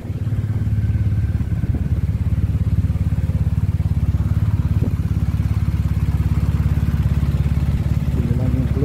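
A motorcycle idles with a steady, loud, close engine rumble outside a London police station, holding an even note throughout with a slight rise at the very end.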